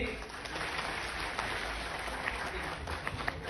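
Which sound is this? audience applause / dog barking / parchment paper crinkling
audience applause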